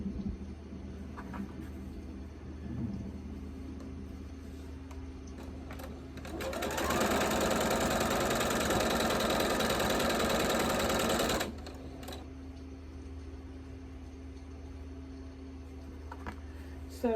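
A sewing machine stitching quilt center blocks runs in a steady, fast whir for about five seconds in the middle, with quieter handling noises and light clicks before and after.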